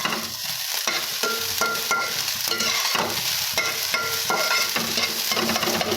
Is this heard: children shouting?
no